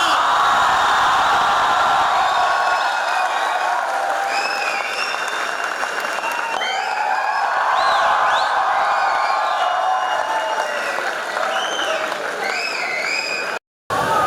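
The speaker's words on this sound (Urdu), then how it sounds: "اپنی بھرپور تالیوں میں اپنے مہمان کا استقبال کیجئے، جناب خلیل الرحمان قمر صاحب" Sustained, dense applause from a large audience welcomes guest Khalil ur Rehman Qamar at Islamia University Bahawalpur, loud and steady for over thirteen seconds, with scattered cheers and whistles rising over it before it cuts off abruptly.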